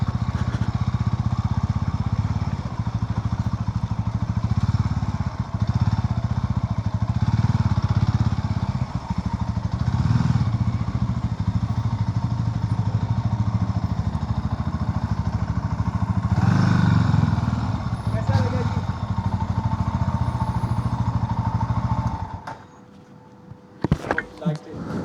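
Sothassi 400 Classic motorcycle engine running steadily during a ride, a loud continuous low drone that holds for about 22 seconds, with someone talking over it, then drops away abruptly near the end.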